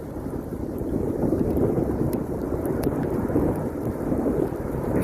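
An erupting volcano's lava vent roars continuously near a lava flow under falling pyroclastic debris, a dense, steady low rumble with wind buffeting and faint crackles, no voices.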